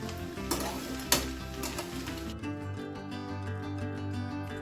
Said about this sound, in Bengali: এবারে ডিম ভুজিয়াটা মিশিয়ে নাড়িয়ে নামিয়ে নিলেই হয়ে যায়।